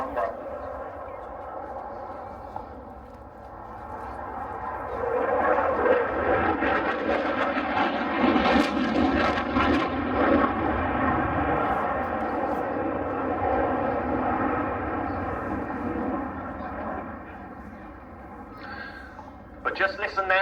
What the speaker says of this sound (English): Tom opening those throttles up even further, just below 700 miles per hour on this pass, as he goes into a high speed double aileron roll